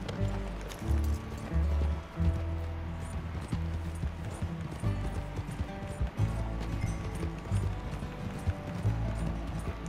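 Horse hooves galloping in Red Dead Redemption 2, a rhythmic clip-clop of a running horse at close range with game sounds around it, with a voice briefly heard.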